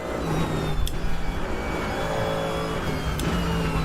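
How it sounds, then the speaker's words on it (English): A GT3 race car does a burnout at Silverstone in the RaceRoom racing game, its engine holding a steady, loud, high-revving drone throughout with a couple of short sharp transients and no talking. "burnouts after the line"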